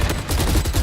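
Rapid gunfire in a shooter video game, shown during an esports match watch party: a dense, loud burst of repeated shots, one after another, filling the moment with no talk over it.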